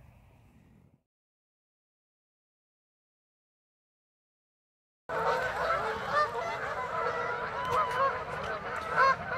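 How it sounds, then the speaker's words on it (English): Geese honk as they fly off for the day, a dense chorus of overlapping calls that bursts in after a long silence and carries loudly to the end, heard outdoors at a carp fishing spot. "Well, the geese are departing for the day,"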